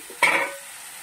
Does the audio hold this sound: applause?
no